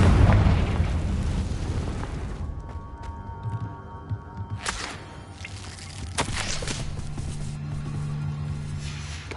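Explosive curse in Hogwarts Legacy, a heavy booming blast up front followed by scattered sharp bursts and cracks and a low lingering rumble, loud and close with no talking.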